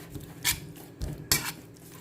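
A metal utensil stirs paprika into ingredients in a cooking pot, giving two distinct clinks and scrapes against the pot, one early and one later, over quiet low kitchen background.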